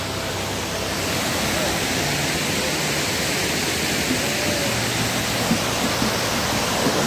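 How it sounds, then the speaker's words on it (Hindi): A river in a jungle setting rushes steadily, a broad, even roar of flowing water that fills the whole stretch without pause, with no clear voices over it. "वाओ देखो पानी बह रहा है।"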